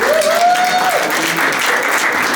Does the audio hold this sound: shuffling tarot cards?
no